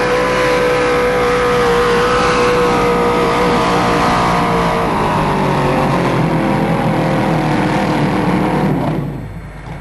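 At a tractor pull, a competition puller called Wicky's Wacker, built with a 9-inch Ford rear end and a Chrysler gearbox, roars loudly at sustained high revs, the engine note sliding slightly before cutting off abruptly near the end.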